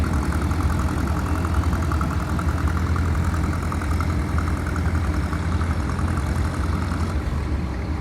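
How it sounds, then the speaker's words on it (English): A 1948 Minneapolis Moline G tractor runs steadily at a tractor show, its engine giving a continuous low, rumbling drone at an even level with no voices. "Charles is driving his 1948 Minneapolis Moline G. That's making some different noises there."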